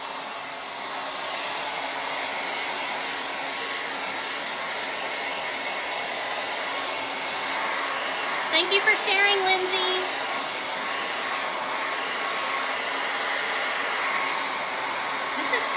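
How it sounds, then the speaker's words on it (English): A hair dryer blows with a steady, continuous whir, while a voice talks briefly partway through over the constant airflow. "I'm going to dry this and then we're going to do the Chalk Couture. I got to get my hair dryer."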